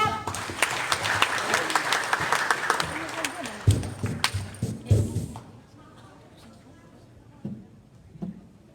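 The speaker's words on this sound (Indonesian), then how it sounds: "Sekali lagi tepuk tangannya yang semangat" Audience applause at a Horas Bangso Batak inauguration ceremony in Medan, a dense burst of many hands clapping that fades out after about five seconds, leaving a quiet hall with a few scattered sounds.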